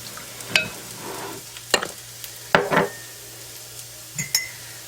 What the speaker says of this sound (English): I'm going to mix this part of it together.